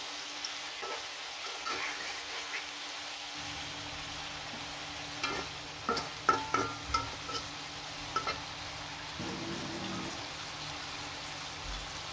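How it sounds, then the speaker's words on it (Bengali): Pabda fish sizzle in a spiced onion masala of turmeric, chili, coriander and cumin, a quiet continuous frying hiss with scattered scrapes and knocks of stirring near the middle, and no talking. "আর এখন পাবদা মাছগুলো দিয়ে দিলাম"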